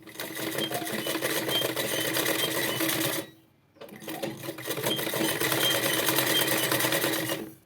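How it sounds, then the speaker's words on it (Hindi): Close, loud whirring of a sewing machine stitching the fabric of a long frock made from a saree, running steadily for about three seconds, pausing briefly, then starting up again. "सबसे पहले मैं इसको सिलाई करके आपको बता देती हूँ"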